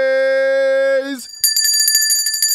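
A sustained bell tone rings and fades, followed by a rapid run of bright metallic dings like a bicycle bell, loud and close with no talking.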